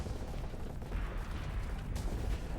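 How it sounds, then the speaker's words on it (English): Explosions in a Starsector space battle, a dense burst of overlapping booms and crackling blasts rolling on continuously at moderate loudness. "Just had a bunch of random-ass explosions"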